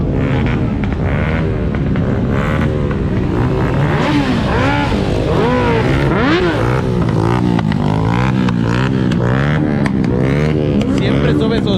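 A motorcycle passes close by at a busy Sunday motorcycle gathering in Tres Marías, its engine rising and falling loudly amid other revving bikes, with people talking over the steady roar.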